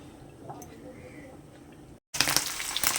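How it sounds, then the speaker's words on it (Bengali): Paneer frying in a pan, a soft crackling sizzle with faint drips that drops out briefly, then returns louder and brighter, as if the pan is now close by. "পনিরটা আমি ভাজছি, হালকা লাল লাল করে ভাজবো"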